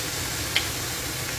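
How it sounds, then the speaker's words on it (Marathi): Ground masala paste fries in oil in a pan, making a steady, close hiss with a tiny tick partway through. "वाटण छान परतून घेऊया आपण तेलामध्ये."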